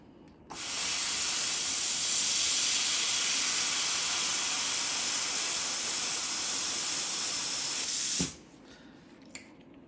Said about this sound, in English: this is using just regular compressed air